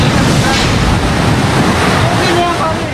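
Super typhoon wind roars in Tacloban, a loud, continuous, buffeting rush that overwhelms the microphone with dense broadband noise from start to finish, no voices heard.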